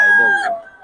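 A sweater gamecock rooster at the Bocaue market lets out a single loud, close crow that trails off within a second, with no talking over it.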